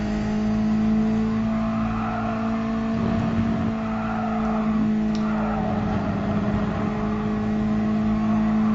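A Mazda race car in Gran Turismo Sport runs flat out, its engine holding a steady, loud, buzzing drone with little change in pitch.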